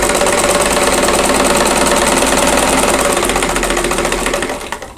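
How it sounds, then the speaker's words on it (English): Fast, steady whirring stitching of a sewing machine running along a drawn line on a quilt block, close and continuous, slowing to a stop at the end. "I'm going to sew right on that drawn line."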